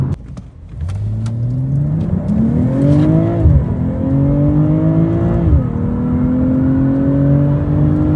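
A Mercedes E200 racing on the road, its engine revving up in rising sweeps with two gear shifts, loud and close as it accelerates with no talking.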